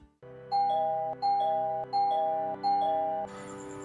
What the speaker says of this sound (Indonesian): Aku terlonjak kaget mendengar bel di pintu yang terus-terusan berbunyi.